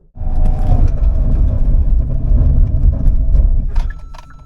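A 2024 Hyundai Ioniq 5 N runs a braking test on a slightly wet road, giving a loud, steady roar of tires and road noise for several seconds that fades out near the end.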